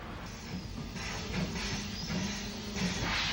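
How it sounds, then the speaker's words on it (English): Steam tank locomotive number 30, Shorewell, pushing carriages along a station platform on the Isle of Wight: a steady hiss of steam with low rumbling and faint rhythmic chuffs, moderately distant. "30, Shorewell, pushes the stock down the platform prior to running round at Pier Head"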